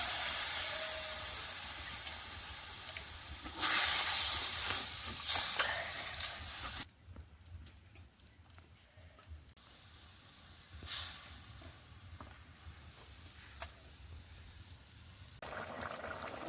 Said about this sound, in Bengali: এবার ওটাকে গ্রেভি বানানোর জন্য জল দিয়ে দেবো